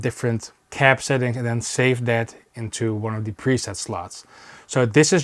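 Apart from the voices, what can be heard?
No distinct noise like a dog, phone or traffic.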